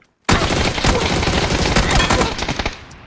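Rapid automatic gunfire in the battle royale video game PUBG on the Erangel map, a loud dense burst of shots starting abruptly and trailing off after about three seconds.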